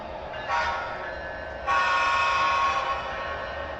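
A model GE Evolution (Gevo) locomotive horn on a small loft train layout toots twice, a short blast then a longer sustained one, close and clear with no talking.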